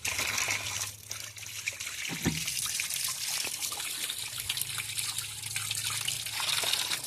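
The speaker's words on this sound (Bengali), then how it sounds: "দেখো গাইস কেমন জলটা পড়ছে, দারুণ লাগছে দেখছো জলটা।" Water pours and trickles steadily in a kitchen where fresh fish is being prepared, a continuous close splashing flow with a few brief knocks along the way.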